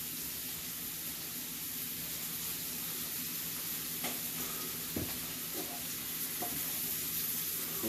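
Butter sizzles in a pan with seasoned potatoes, a steady broadband hiss that runs the whole time, with a few soft clinks of stirring and a small knock near the middle.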